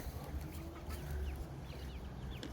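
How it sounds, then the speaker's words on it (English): Backyard chickens, a flock of young chicks, clucking and cheeping in scattered short calls, faint and close, with a low background hum. "There's my chickens."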